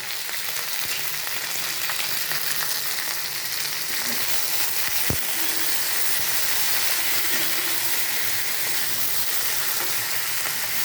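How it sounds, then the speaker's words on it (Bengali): Okra pieces fry in a pan with salt, a steady dense sizzle running throughout at close range, with one brief sharp click midway and no talking. "এটাকে আমি এখন 2-3 মিনিটের মতো ভাজবো"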